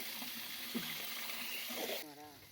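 Water splashing and running as sheep are bathed in a Himachal hill village, a continuous wash of water with a few brief splashes and a voice faintly under it.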